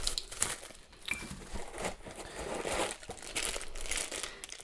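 Plastic packaging is cut and pulled off the levers of a Volibel fingerprint smart lock, making close crinkling and crackling bursts in irregular waves with brief sharp snips.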